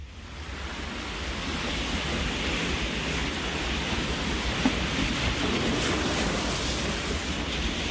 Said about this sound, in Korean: 파도가 너무 높아.